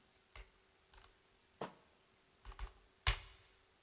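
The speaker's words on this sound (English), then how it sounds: "go to the browser and type this domain" A computer keyboard being typed on in sparse, separate clicks, a few single taps and small clusters spread out, close and clear against a quiet room.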